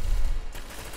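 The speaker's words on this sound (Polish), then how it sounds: "Ale we mnie strzelają." Rapid gunfire bursts in the video game SCP Secret Laboratory, heard as a short, dense volley of close shots.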